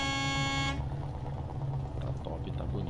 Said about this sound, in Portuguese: essa buzina, rapaziada, ela faz parte junto aí com o pack de ronco